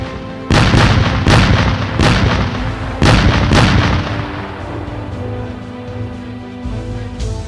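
Heavy wartime artillery booms out in a series of deep, powerful blasts during the early seconds, then gives way to a lingering rumble and distant thuds, with no voices.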